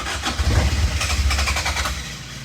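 A 1988 Toyota MR2 AW11 cranks over with a rapid, uneven chug, the starter and engine rattling close and loud in a short burst, struggling and rough rather than catching cleanly.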